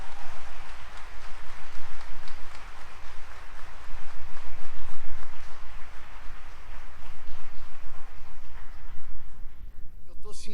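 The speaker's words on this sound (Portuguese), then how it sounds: "Pode aplaudir para valer," A church congregation applauds during a sermon on the Virgin Mary, a loud sustained roar of clapping lasting about ten seconds with voices mixed in before it fades.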